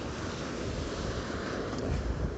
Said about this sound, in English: just watching these waves rolling in and out